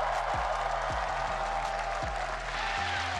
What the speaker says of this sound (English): As the crowd cheers for him